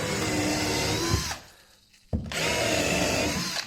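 Power drill countersinking screws into a workbench top, a loud steady whir that stops briefly, leaving a short quiet gap, then starts again at full strength and runs on close by.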